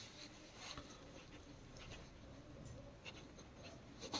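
A pen scratches steadily across paper while a class 10 coordinate geometry problem is worked out, faint and continuous with small bursts of strokes and no talking.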